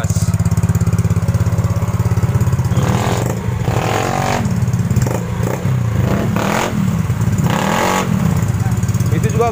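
Yamaha Mio GT scooter with a split, opened-up exhaust revving repeatedly from a loud, raspy idle, several throttle blips rising and falling close to the microphone.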